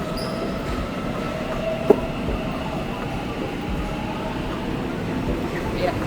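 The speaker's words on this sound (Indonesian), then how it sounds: "Dan kereta yang aku naikin baru aja tutup pintunya." Commuter train pulling away from a platform after its doors close, a steady broadband rumble of wagons rolling with faint wheel squeal and a brief clack, heard nearby amid station noise.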